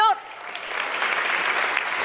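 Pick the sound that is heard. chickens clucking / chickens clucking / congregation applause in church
congregation applause in church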